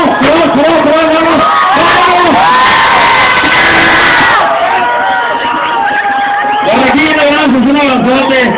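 A loud crowd at a village contest event in Tzicatlacoyan cheers, whoops and shouts continuously, with children's voices and some applause mixed into a dense, steady roar.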